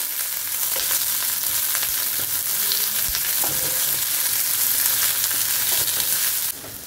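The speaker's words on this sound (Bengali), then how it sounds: "পেঁয়াজগুলো দিয়ে দিলাম, পেঁয়াজগুলোকে একটু গোল্ডেন করে ভাজতে হবে" Onions sizzle and crackle steadily in hot oil in a pan, a continuous bright frying hiss with occasional stirring scrapes, close and loud without any talking.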